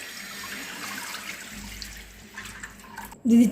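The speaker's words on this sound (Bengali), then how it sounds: "ফুল ফ্যাট দুধ আমি এখানে দিয়ে দিচ্ছি।" Full-fat milk pours into a pot as a soft, steady liquid trickle, rising to a louder splash in the final moment, heard close with no voices.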